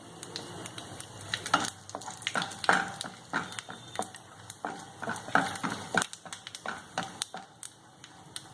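Green chillies and tempering spices fry in hot oil for coconut rice, a steady close sizzle broken by repeated sharp taps and scrapes of a spoon stirring against the pan, with no talking.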